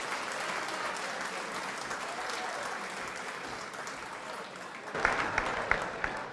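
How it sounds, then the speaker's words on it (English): Guests at a 2012 retirement dinner honoring Chris Neville give a long, steady round of applause, a dense, even wash of clapping that ends with a few sharper, closer claps. "a nice big round of applause for Chris"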